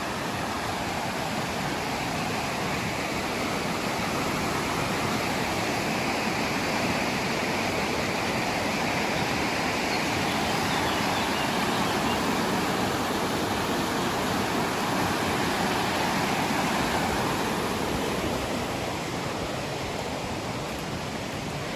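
Steady rushing water flows continuously, a broad even roar like a fast river beside a park in Bachinovo, Blagoevgrad, Bulgaria, with no voices or pauses.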